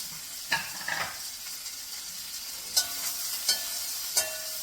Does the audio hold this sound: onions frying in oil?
yes